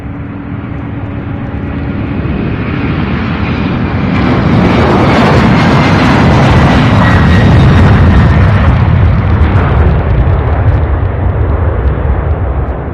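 An Airbus A300-600 jet taking off from Louisville International Airport, its engine roar building into a loud, sustained rumble that swells and holds, heard alone.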